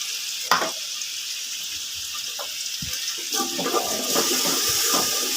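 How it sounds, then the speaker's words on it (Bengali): Ginger and garlic paste frying in oil with whole spices for white pulao, a continuous close hiss and sizzle with occasional stirring knocks, growing slightly louder toward the end, no talking. "খুব সামান্য ভাজতে হবে।"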